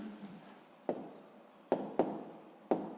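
A pen writing on paper close up, with a soft continuous scratching stroke broken by four sharp taps as the pen strikes the page, and no talking.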